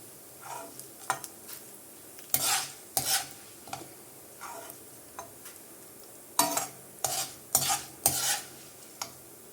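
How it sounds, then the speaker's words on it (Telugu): Urad dal fried in hot oil and stirred in a pan while making gongura chutney, with a soft sizzle underneath and repeated loud scraping and clattering strokes of a spoon against the pan, up close. "మినపప్పు, వీటిని కూడా దూరగా ఫ్రై చేసుకోవాలి"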